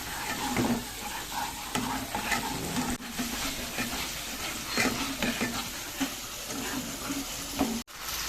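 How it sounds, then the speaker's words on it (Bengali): Masala with salt and turmeric fries in oil in a pan, a constant loud sizzle overlaid with frequent scraping and stirring strokes from a spatula, close and steady throughout. "নুন হলুদ দিয়ে মশলাটাকে কষিয়ে নিচ্ছি"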